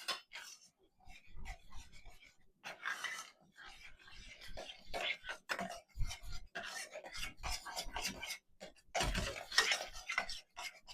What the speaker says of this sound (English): Now we're going to add our flour. And we're going to mix it.